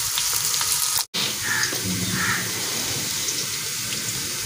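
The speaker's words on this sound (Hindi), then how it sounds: "भिंडी जो होती है उसको कलर चेंज होने तक हम इसको फ्राई करेंगे" Okra (bhindi) sizzles and fries steadily in a pan of hot oil in a home kitchen, a continuous close hiss with a brief cut near the start and no talk over it.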